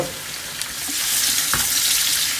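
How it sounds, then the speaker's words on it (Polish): Pork neck frying with onion in a pan, a loud, close, continuous sizzle with a brief stirring clack, no voices. "Gdy karkóweczka nam się podsmaży z cebulką"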